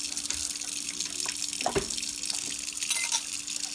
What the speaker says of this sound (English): I'm just going to kind of pour it down the drain and let you guys see as I pour it